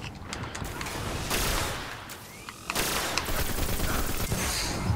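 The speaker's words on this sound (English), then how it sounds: "bloody hate fusion rifles" Fusion rifle fire in a Destiny Crucible PvP match: charged energy bursts and crackling discharges at moderate volume, with heavy bursts around the first and third seconds amid mechanical clatter.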